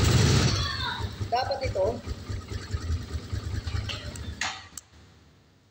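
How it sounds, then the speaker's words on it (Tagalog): A motorcycle engine starts and settles into a low, steady idle rumble, with someone talking over it before the sound fades out. "Buhayin natin yung motor like this."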